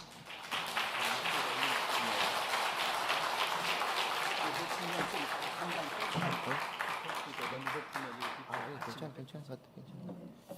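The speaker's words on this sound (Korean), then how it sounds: "우리 나오실 때 박수로 한번 맞이해 주시겠습니까?" A church congregation applauds to welcome a pastor to the front for a leadership training seminar, dense steady clapping filling most of the stretch before thinning out near the end, with some voices mixed in.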